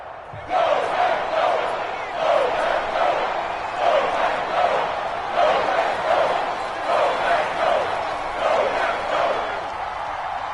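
Stadium crowd in a PS4 football video game roaring steadily, swelling in repeated rhythmic chant-like waves of voices, loud and continuous throughout.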